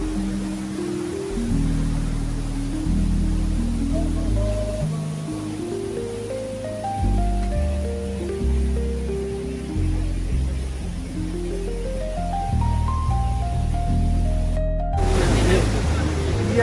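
A broad, constant roar of rushing water at Victoria Falls fills the background beneath a prominent, stepping instrumental melody, with a louder gust of noise near the end.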